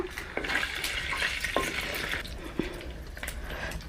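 Biryani spices fry in hot oil in a clay pot over a village-style wood-fired stove, giving a continuous sizzle under intermittent scraping and stirring knocks from a spoon.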